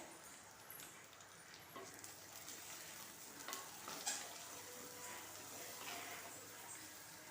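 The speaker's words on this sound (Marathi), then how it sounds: "आता वाटण सुद्धा छान आपल्याला तेलामध्ये परतून घ्यायचं आहे दोन मिनटं" Ground masala paste fries in oil in a pan for stuffed brinjal, giving a soft, steady sizzle with intermittent stirring scrapes and clinks, faint and close, with a dog barking somewhere in the background.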